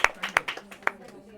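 Several scattered hand claps from an audience sound close by, brief and uneven, as a small round of applause at a devotional gathering in Berlin.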